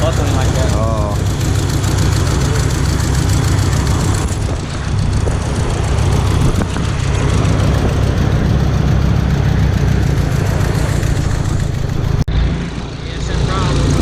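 Rough, stumbling engine of an Eagle Talon DSM car after a breakdown, a loud, steady low rumble running throughout, with voices talking over it.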